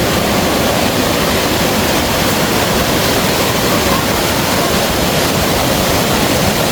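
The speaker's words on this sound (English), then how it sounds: "Welcome to the waterfalls." A waterfall in Oloolua Forest pours with a dense, unbroken roar of rushing water, close and loud throughout with no voices.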